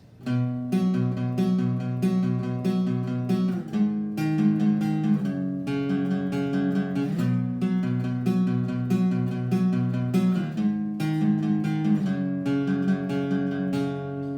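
A guitar tuned a half-step down plays the intro of a song, a steady, rhythmic pattern of picked notes and chords, close and continuous, with no talking.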